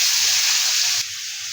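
Oil sizzles in a pan while a chicken roast is being cooked, giving a steady, loud broadband hiss that drops a little in level about two-thirds of the way through, with no voices.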